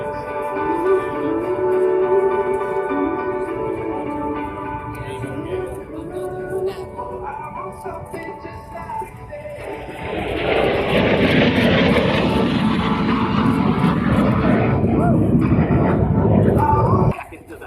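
A USAF Thunderbirds F-16 jet flies a four-point roll at the NAS Oceana air show. Tonal background sound gives way to a loud, roaring jet pass that builds and holds for several seconds before cutting off.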